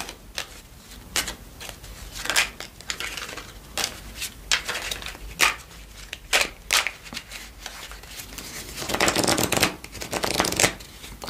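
Oracle cards being shuffled, irregular papery riffles and slaps of card stock, close and fairly soft, with a longer rustling burst near the end and almost no talking.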